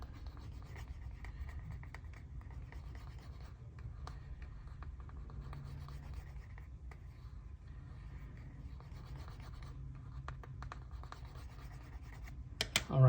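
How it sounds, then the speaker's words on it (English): A burnishing stick rubs back and forth along the edge of a leather minimalist wallet with light pressure, a soft, steady, close friction hiss that keeps going throughout before a brief louder bump at the end. "I'm going to use a burnishing stick here and just go back and forward"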